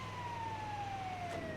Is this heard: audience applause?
no